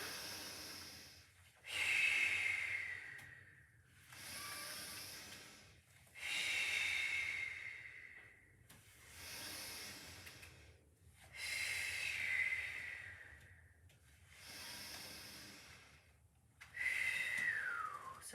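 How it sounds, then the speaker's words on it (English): A pilates class with steady, audible breaths: strong nasal exhales alternate with inhales in a slow regular rhythm, close to the microphone and without speech. "Pull in, breathe out."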